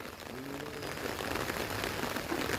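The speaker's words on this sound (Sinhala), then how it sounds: "තද කරා වැස්ස." Heavy rain falls over a farm plot with chilli seedlings and coconut palms, an even, fairly faint wash of hissing drops with no talking.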